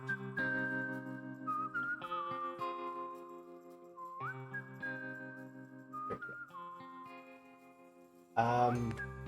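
Stereotypical Western-style music carries a melodic whistled tune over steady sustained instrumental chords, the whistle gliding between notes in phrases, ending with a brief brighter burst of sound.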